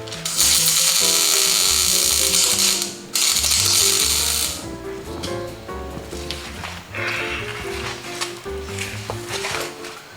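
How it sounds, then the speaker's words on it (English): A welder fuses a nut onto an adjustable steering stopper on a street rod car, giving off a loud, close, crackling buzz that runs nearly continuously, with a brief pause before the arc resumes and carries on to the end. "I'm going to go ahead and weld that up."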